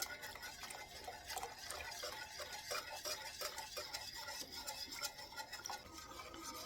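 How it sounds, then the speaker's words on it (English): A whisk beats eggnog cheesecake filling with cornstarch in a pot, making quiet rapid rhythmic clinking and scraping against the metal that continues throughout at low volume. "You want to gradually add your cornstarch, and you're going to whisk vigorously."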